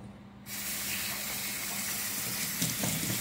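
Tap water sprays steadily onto air conditioner filters being washed by hand, a continuous close hiss and splash that stays loud and even throughout, with a slight change in the splashing near the end and no talk.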